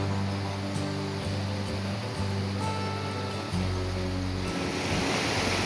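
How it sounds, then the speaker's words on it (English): A stream in the Pecos Wilderness rushes in a steady, broad wash of flowing water from a short distance, with a faint low hum beneath and no voices. "I don't know if you can hear that water, but it's such a welcoming, beautiful sight and sound."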